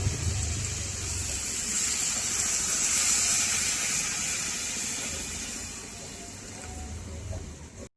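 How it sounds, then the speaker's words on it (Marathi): Water poured into a cooking pan of gravy makes a continuous gushing hiss that swells in the middle and eases off, with a low rumble underneath, lasting several seconds. "आता आपण टाकू त्यात थोडासा पाणी."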